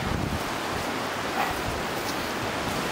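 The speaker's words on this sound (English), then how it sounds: "Well, we found the falls." Lynn Camp Cascades waterfall on the Middle Prong Trail in the Great Smoky Mountains: a steady, broad rushing roar of falling water, continuous and even with no voices.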